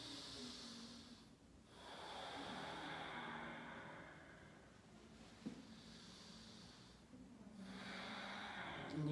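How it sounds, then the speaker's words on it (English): Slow, deep diaphragmatic breaths during a lower-body roll mobility drill: long airy inhales and exhales in a steady rhythm, close and soft, with a brief snort-like catch partway through. "Breathe down into my diaphragm."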